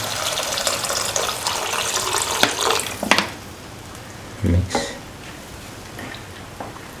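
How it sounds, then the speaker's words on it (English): Water from a measuring cup poured into a pot of sautéed yam and potato stew, a steady splashing run through the first three seconds, then fading into quieter bubbling and a few brief clinks. "Now pour in 300 ml of water."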